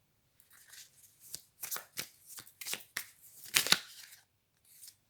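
Tarot cards are shuffled by hand in a series of close, crisp riffling bursts with short pauses between them, then a final brief flutter.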